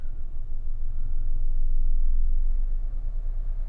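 A car engine idling at a steady low rumble, its revs sagging partway through and then picking back up, with a fault in the idle control and a replaced exhaust, heard close and alone.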